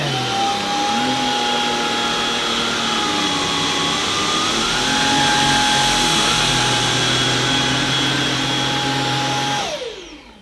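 Samsung Jet 90 Pro cordless vacuum cleaner on the medium setting picking up dog hair, a steady close whine with a constant high tone that shifts slightly in pitch mid-pass, then cuts off and winds down near the end.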